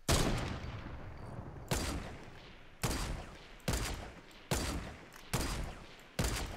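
The heavy sniper rifle in Fortnite Battle Royale fires about seven loud, booming shots at a steady pace of roughly one per second, each followed by a short echoing decay, with no voices.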